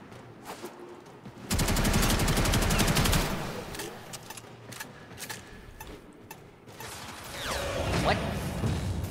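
Automatic gunfire in the Warframe video game: a dense, rapid burst of shots for a couple of seconds, followed by scattered mechanical clicks and effects, then another rising flurry of combat noise.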